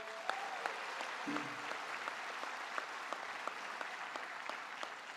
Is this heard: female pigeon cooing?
no